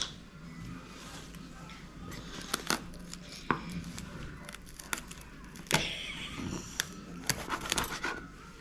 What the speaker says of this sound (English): Can I cut some celery?